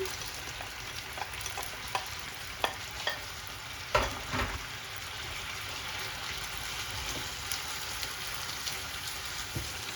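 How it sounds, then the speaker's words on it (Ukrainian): Chicken frying in a pan as vegetables and a splash of vegetable broth go in, giving a steady sizzle with sharp clatters and stirring knocks around the middle, close and fairly loud, no voices. "Кидаємо сюди овочі і трошки бульйончику з овочем."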